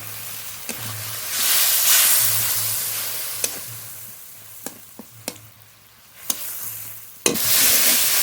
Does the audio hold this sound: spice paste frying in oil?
yes